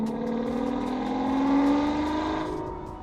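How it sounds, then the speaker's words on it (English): A 2007 Aston Martin DB9 V12 engine revs up and climbs in pitch, its exhaust note swelling to a loud peak before easing off, echoing off surrounding buildings. "the reverberation you get off the buildings of the exhaust"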